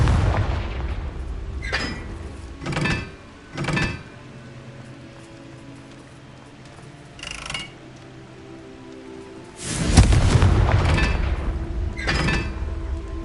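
Confringo spell blasts in the Hogwarts Legacy video game: several short, loud booming bursts spaced a few seconds apart, with a heavier rumbling explosion near the end, over faint background ambience and no talk.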